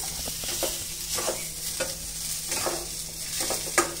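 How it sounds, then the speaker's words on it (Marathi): Sabudana khichdi stirred in a pan, a spoon scraping and turning the grains in repeated rhythmic strokes over a steady soft sizzle, close and moderately loud with no voices. "व्यवस्थित मिक्स करायचं."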